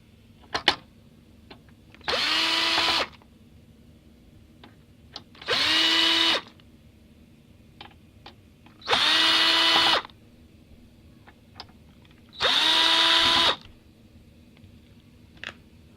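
A power screwdriver backing screws out of the rear panel of a Panasonic LCD TV, four separate whirring bursts of about a second and a half each, evenly spaced, with faint clicks and handling noise between them.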